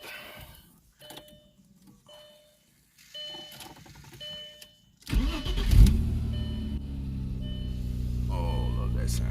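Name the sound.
Audi car engine starting and running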